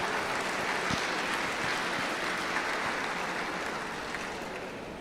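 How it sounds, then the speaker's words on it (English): Audience applauding at a school district opening ceremony, steady dense clapping from a crowd filling the room, holding level throughout before easing slightly at the end, with no talk over it. "yeah, clap for that."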